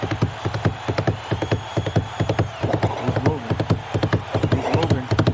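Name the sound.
horse hooves clip-clop in NBA 2K video game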